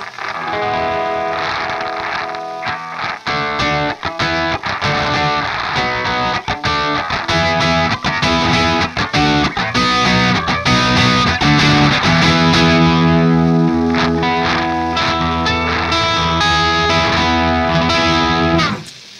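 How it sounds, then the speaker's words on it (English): A Source Audio Artifakt effects pedal set to its radio mode colours a clean electric guitar, which plays a steady stream of chords and notes for about nineteen seconds with a dense, processed tone and no talking. "First mode is radio. So clean sound sounds like this."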